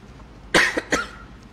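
A short burst of coughing, two or three quick harsh coughs close by in a quiet room.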